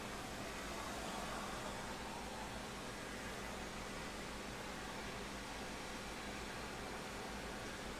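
A steady, broadband hum from outside an airplane cockpit, even and unbroken throughout, with no voices present.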